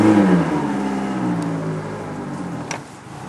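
An outboard boat motor in neutral revs up, its pitch rising sharply at first before settling into a steady, loud running drone.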